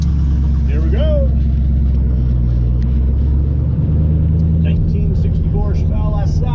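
A frame-off restored 1964 Chevelle SS Super Sport with a four-speed, rumbling steadily and loudly on the road with deep low-end engine drone throughout, while someone talks over it.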